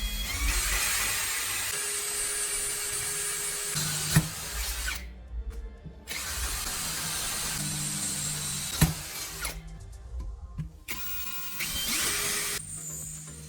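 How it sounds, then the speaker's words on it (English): A cordless drill running on a restored battery bores into a piece of aluminum, whining loudly and steadily in long bursts separated by short pauses, with sharp clicks where it stops and starts. "I tried it on a piece of aluminum to be sure, and it drilled without hesitation."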